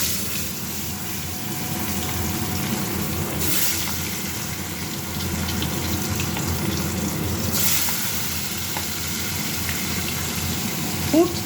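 Fish rubbed with salt and turmeric are slid into hot oil in a pan, giving a loud, continuous sizzling hiss that swells sharply twice as pieces go in, with a faint voice in the background.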